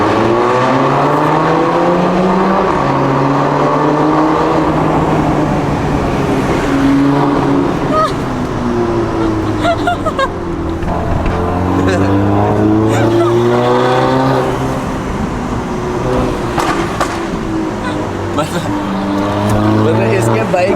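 An Audi TT engine revs repeatedly, its exhaust note sweeping up and down in loud waves with sharp pops and crackles between pulls, while people talk over it.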